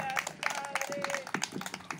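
Congregation clapping for the Lord during a home prayer vigil, a brisk scatter of hand claps mixed with voices and a sustained tone.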